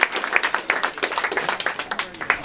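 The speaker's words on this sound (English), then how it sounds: "Give yourselves a round of applause" Audience applause at a live improv comedy show: a dense, steady patter of many hands clapping, fairly close and lively, running throughout with no talk over it.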